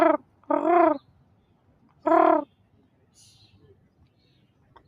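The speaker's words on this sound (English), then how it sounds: "What's that raven doing? That's an ominous sign. He's making some noises." A raven gives three harsh, croaking calls at close range: two in quick succession, then one more after a pause, followed by quiet outdoor background.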